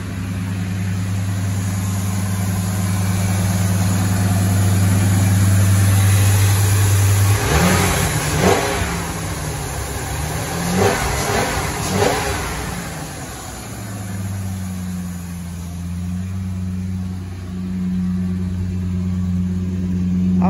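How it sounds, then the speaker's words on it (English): A 2001 Ford Excursion with a loud aftermarket exhaust idles with a deep, steady rumble, then is revved hard several times in close bursts before settling back to a loud idle; no one speaks. "I like this exhaust, but it is loud out in idle."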